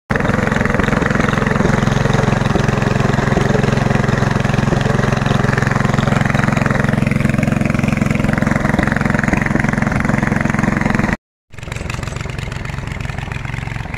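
Oka walk-behind tractor with a snow bucket, clearing wet, sticky snow from a shopping-centre car park: its small engine runs loud and steady at close range for most of the clip, then cuts out briefly and resumes.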